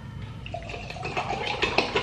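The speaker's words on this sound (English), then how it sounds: "Then I have this lemonade. It's organic from Trader Joe's we got yesterday. Pour that on top." Organic lemonade poured over ice in a glass, a close, steady splashing trickle with faint clinks building toward the end.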